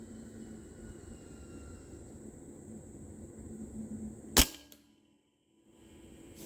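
Single sharp air gun shot from a Blitz rifle during chronograph testing, a loud crack followed by a brief ring-out and near silence, over a steady background hiss.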